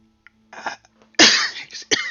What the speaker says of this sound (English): Just cough. Should not have grabbed something to eat. It's going down the wrong way.